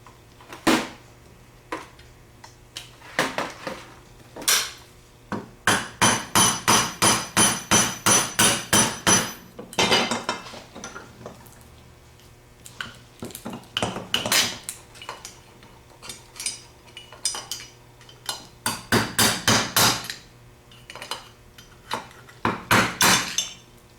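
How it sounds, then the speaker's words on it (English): Metal-on-metal hammering as a Harbor Freight screwdriver is driven to knock a bushing out of a vintage Chrysler starter end plate: loud, sharp ringing strikes in rapid bursts of repeated blows, with short pauses between runs, close and without speech. "we're going to take a Harbor Freight screwdriver and get this bushing out of here"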